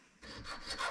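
A file rasps against the hinge points of small blacksmith's miniature tongs in a brief, quiet burst of a few quick scraping strokes, with no voices.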